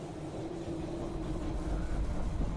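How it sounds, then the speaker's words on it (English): In the video game They Are Billions, a train pulls into the station with a steady low rumbling and a faint tonal hum that grows slightly louder, no voices. "The train has arrived at the station."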